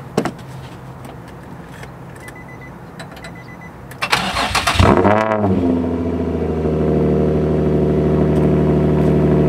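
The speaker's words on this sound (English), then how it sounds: "Let me get a cold start for y'all." Cold start of an Infiniti G35 car engine: steady idle, then a sharp starter crank at about four seconds that catches into a loud rev flare, which settles to a smooth, even, close-up idle.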